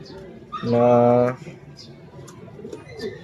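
A single coo from a pigeon with nasal discharge, a low rounded hooting call, sounds up close, followed by faint background murmur and quiet talking.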